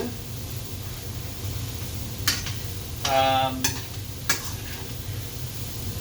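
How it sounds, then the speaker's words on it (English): Sliced, cleaned mushrooms sauté in a pan for champagne chicken, a steady low sizzle with a few short clinks and scrapes of stirring near the middle. "you're going to start sauteing the mushrooms here"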